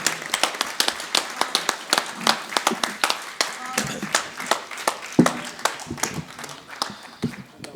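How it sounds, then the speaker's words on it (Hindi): An audience at a Hindi kavi sammelan poetry gathering claps after a poem, a dense round of sharp, close hand claps thinning toward the end, mixed with a voice. "बिना लाग लपेट के तालियां बजा दीजिए"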